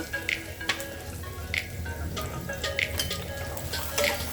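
Chopped onion, green chilies and tomato frying in a pan, a steady sizzle with occasional clinks and stirring scrapes, close and fairly busy throughout.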